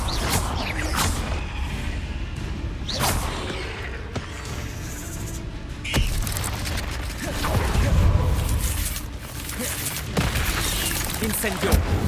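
Spellcasting in Hogwarts Legacy: a Confringo fire blast spell fires in combat, with sharp bursts, crackling impacts and a booming swell amid continuous game noise, while a voice talks over it.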